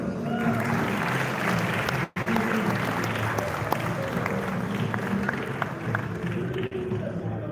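A crowd keeps clapping at the NLNG prize award night for literary criticism, a dense even wash of applause with a brief dropout partway through and faint voices mixed in.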